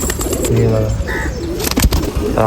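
Gauran breed pigeons coo in low, throaty bursts close by, with rustling and other faint noises around them.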